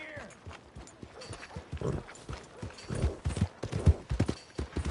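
Horse hooves clip-clop in steady rhythm through a Red Dead Redemption 2 ride, a close, moderately loud trot with voices talking over it now and then.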